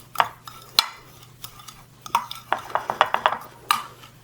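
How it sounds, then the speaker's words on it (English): Eggs, spices and garlic are mixed by hand in a bowl, with soft squelching strokes and sharp clinks against the bowl arriving in an uneven rhythm, close and fairly quiet, with no talking. "use my hands to mix this, the eggs and all the spices and the garlic"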